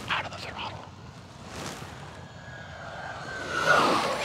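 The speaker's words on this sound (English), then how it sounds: "we haven't flown an EDF jet for a while. Man, listen to that thing." FMS A-10 Thunderbolt II twin 70mm EDF radio-controlled jet flying overhead, a whooshing ducted-fan whine that swells as it passes and grows louder near the end, with people talking over it.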